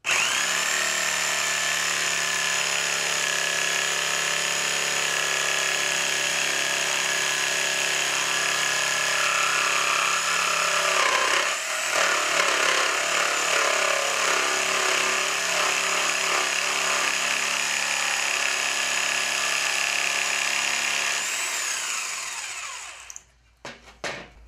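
A power saw cuts through pallet wood with a loud, continuous whining drone that holds nearly steady for about twenty seconds, dips briefly midway, then spins down and stops with a few final knocks.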